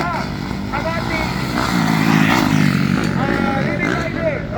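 Small 85cc and 70cc racing motorcycles in a ladies' open championship race buzz past with rising and falling engine whines, mid-distance, under excited commentary and crowd noise.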